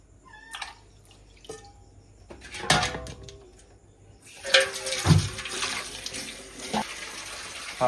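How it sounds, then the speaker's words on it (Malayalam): Water poured into a pressure cooker holding arrowroot tubers, beginning with a few clinks and knocks and then a steady rushing pour that runs for several seconds, close and clear. "ഇനി വെള്ളം കൂടി ഒഴിക്കണ്ടേ?"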